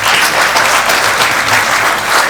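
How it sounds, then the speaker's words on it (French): A crowd at a Congolese diaspora civil society assembly applauds, with dense, steady clapping from many hands filling the room, loud and unbroken, and no voices over it. "Et vraiment, vous pouvez applaudir."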